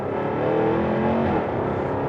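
A supercharged 5-litre V8 in a Jaguar F-Type AWD is revved down in one steady, close, continuous engine note that swells briefly and then eases off, with no talk over it.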